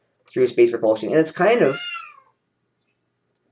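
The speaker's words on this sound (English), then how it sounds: "sorry for the cat" A cat meows several times in a quick run of short calls, close and loud, ending in a longer drawn-out meow over a quiet room.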